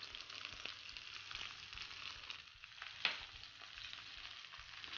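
Zucchini and other vegetables fry in a pan over high heat for a beef and pumpkin dish. A steady, close sizzle crackles throughout, with one brief clink of stirring.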